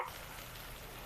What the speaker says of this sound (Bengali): আদা রসুনটা একটুখানি ভাজা হয়ে গেছে